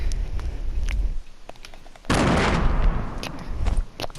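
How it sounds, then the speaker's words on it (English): Grenade explosions in Fortnite Battle Royale begin with a few sharp pops and then break into a loud, sustained blast that rumbles for about two seconds before fading into smaller bangs. "it's going to take 2 grenades to take down a 1x1 late game"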